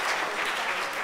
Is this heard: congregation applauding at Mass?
yes